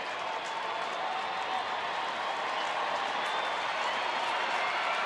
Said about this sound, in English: cheering for their hometown Rangers